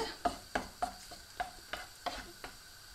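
A spoon stirs fried rice with soaked raisins in a hot pan, producing regular scraping strokes roughly every third of a second over a steady low sizzle.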